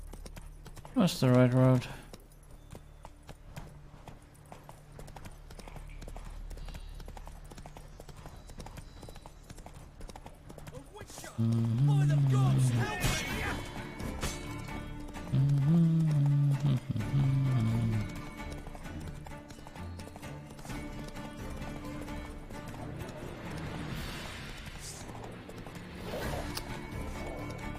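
Roach the horse's hooves clip-clop in bursts in Witcher 3, with whinnies and a rhythmic trot coming and going across a quiet game soundscape while a player talks.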